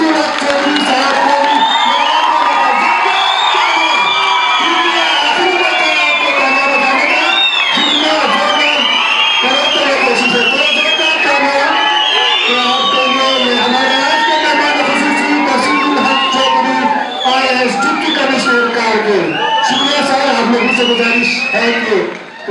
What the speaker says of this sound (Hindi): आखिर में जोरदार तालियों के साथ